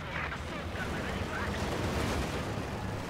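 Katyusha rocket artillery fire in the video game Company of Heroes 2 makes a dense, continuous roar of rumbling launches and blasts, loud and sustained throughout with no clear gaps.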